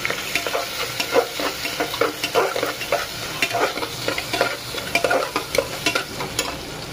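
Onions frying in a pan, a steady sizzle broken by repeated scraping strokes of stirring at close range, with no voices.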